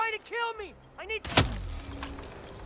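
A gunshot-like bang rings out in a Hitman game set in Paris, one sharp loud burst followed by a decaying rumble, after a stretch of speech.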